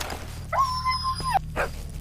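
A dog gives a sharp, drawn-out whining yelp and a few short barks in the video game S.T.A.L.K.E.R.: Shadow of Chernobyl, in the Garbage area. The cries sound moderately close over a steady low background hum.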